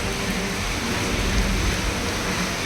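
Steady rain falling in the evening, a continuous broadband hiss with low rumbling, fairly close and even throughout, with no talk.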